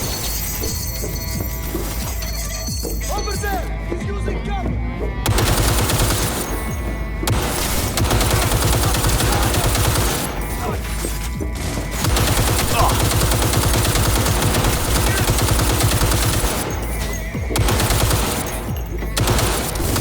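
Sustained automatic gunfire and shattering debris from a Cyberpunk 2077 firefight, loud, dense and continuous for the whole stretch, with bursts swelling and briefly thinning, and shouting voices buried in the chaos.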